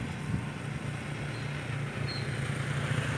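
A Rusi motorcycle engine runs on a mountain road, giving a steady, low, droning hum at moderate distance with no change in pace, and no voices over it.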